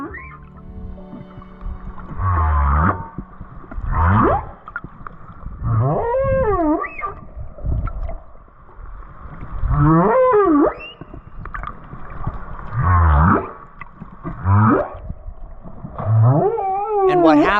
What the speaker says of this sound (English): listened for a good 15 minutes of the song of the whale